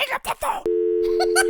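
A steady telephone tone sounds just after the phone is hung up, a sustained loud hum that begins abruptly after a few moments of talk and continues with voices faintly over it.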